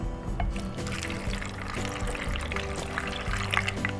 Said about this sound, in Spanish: Y le vamos a agregar un poco de agua.